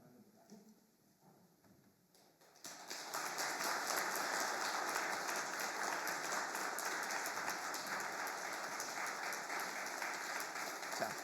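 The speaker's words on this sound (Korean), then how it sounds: "옆에 박수 크게 해주시길 바랍니다" A church congregation at a Sunday worship service bursts into loud, sustained applause after a quiet start, with dense clapping filling the hall until the end.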